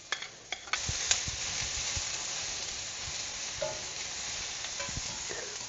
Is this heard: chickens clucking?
no